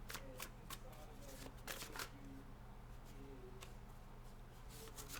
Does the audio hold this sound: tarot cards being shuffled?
yes